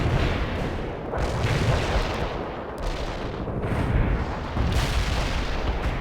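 Artillery strike explosions in World in Conflict, heard as a dense barrage of loud, overlapping booms and rumbling blasts, with repeated heavy impacts and no speech.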